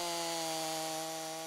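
A chainsaw cuts through a large wild cherry tree in a forest, giving a steady, loud engine whine that holds constant for the whole stretch with no talking.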